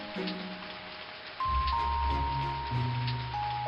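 Rain falls in a steady, soft patter with a hiss, running under a cartoonish musical background that swells partway through.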